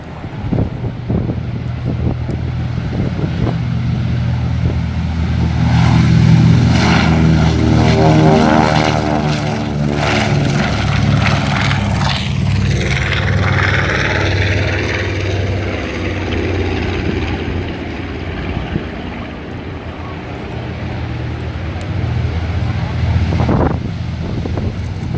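A B-25 bomber, a propeller aircraft at a CAF air show in Dallas, Texas, roars loudly down the runway on its takeoff roll. The heavy, steady engine drone carries on throughout with gusty wind noise.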